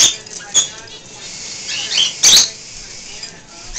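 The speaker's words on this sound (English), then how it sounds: "Here's some more finches flying around." Finches flying around a home bird room, soft wing flutters and patters with occasional sharp chirps and squeaks, a couple of louder bursts over a constant background hiss.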